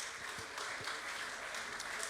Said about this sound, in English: very light applause because people don't want to make it a competition between him and a double mastectomy lady